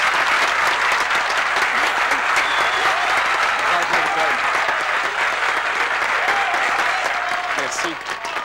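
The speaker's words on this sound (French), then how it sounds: "Joignez-vous à moi maintenant pour applaudir tous en chœur l'ami que nous soutenons tous" An audience applauding Thomas J. Bradley, loud and steady clapping sustained throughout, with a few voices and cheers mixed in, easing slightly at the very end.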